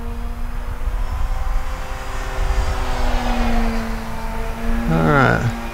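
An E-flite EC-1500 RC airplane flies overhead with a steady electric motor whine that rises and falls as it passes near the end, and outdoor background noise underneath.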